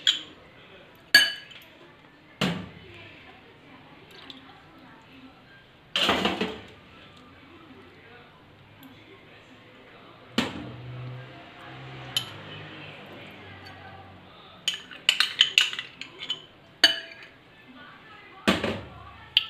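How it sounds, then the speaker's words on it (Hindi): Spoon or utensil clinking against a bowl while soy sauce, chili sauce and ketchup are mixed, with scattered sharp taps and clinks separated by quiet gaps and a bright burst of rapid clatter near the end. "इन सब को हम अच्छी तरह से अब कर लेते हैं मिक्स।"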